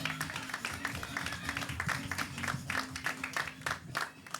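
A comedy club audience claps for comedian Mike Muratore after his introduction, a dense, steady patter of many hands that holds for several seconds and swells and dips slightly, with a low tonal hum underneath.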